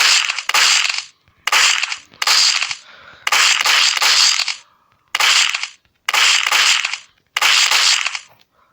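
Sniper rifle gunshots in a video game crack loudly and close, seven or eight heavy bursts arriving in an uneven rhythm with short silent gaps between them. No speech is heard.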